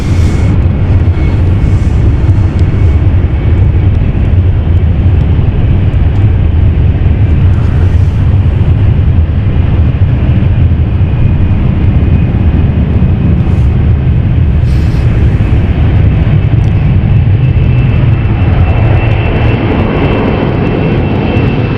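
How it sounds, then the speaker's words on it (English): A CityFlyer airliner takes off at London City Airport on a cold evening, its jet engines producing a loud, close, sustained roar that fills the whole stretch without a break. "was a very quick takeoff there from City Flyer"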